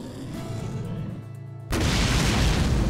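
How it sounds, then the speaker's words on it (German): A low rumble builds, then a sudden massive volcanic eruption boom erupts and gives way to a loud, roaring blast that persists to the end. "Und zwar mit einer gewaltigen Explosion"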